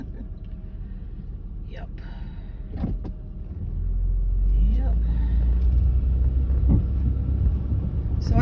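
A Honda Pilot rolls over rough, damaged small-town streets, its low cabin rumble rising and swelling while scattered knocks and thumps from the broken pavement come through. Someone talks briefly over the road noise.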